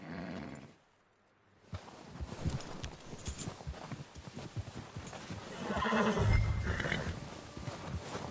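A horse whinnies loudly in the video game Red Dead Redemption 2, over a busy soundscape with hoof clatter and ambient rumble, the neigh rising strongly near the end.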